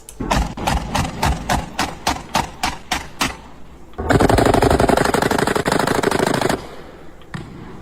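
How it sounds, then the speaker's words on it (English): Gunfire on a highway with fireworks going off nearby: a run of about a dozen loud, evenly spaced shots, then a dense unbroken burst of rapid cracks lasting a few seconds before fading. "These are illegals opening fire on the highway."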